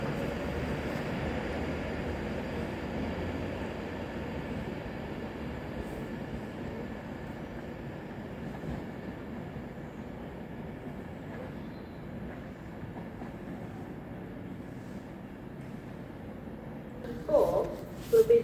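A train pulls out of Coventry station bound for London Euston, its low rumble steady and fairly distant, easing off before a few brief clunks near the end.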